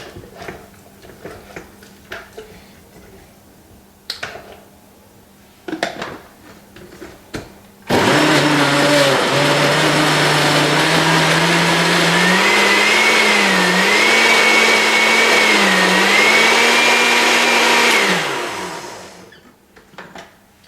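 A few quiet knocks and clatters, then a noisy kitchen blender making a smoothie with almond milk roars to life loudly, whining and shifting pitch for about ten seconds before spinning down and stopping.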